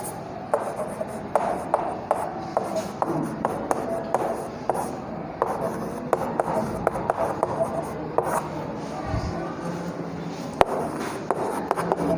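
Chalk or marker strokes on a classroom board during a Hindi chemistry lesson on carbon chains, a steady run of short scratchy taps and rubs at close range with occasional louder knocks.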